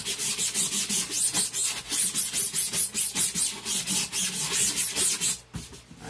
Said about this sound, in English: and then you just rub it in.